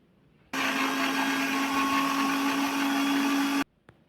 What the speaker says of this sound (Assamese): কৰি ল'ম মিক্সাৰ মেচিনত